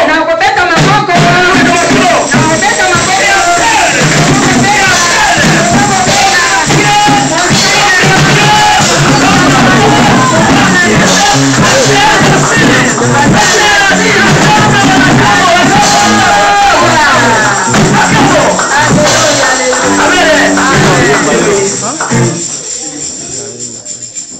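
A church congregation cheers and acclaims during a worship service, a loud, dense crowd of shouts, whoops and voices sustained for about twenty seconds before cutting off abruptly near the end.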